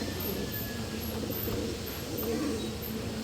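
Pet pigeons coo softly over a low steady background hum, with a few faint chirps scattered through.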